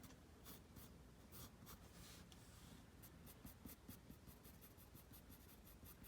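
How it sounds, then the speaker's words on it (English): A pencil sketches and shades on paper with soft, quiet scratching strokes that come in quick repeated bursts, close and alone. "I can just do some shading with the pencil."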